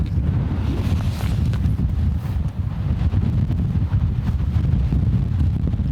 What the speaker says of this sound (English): It's too windy out today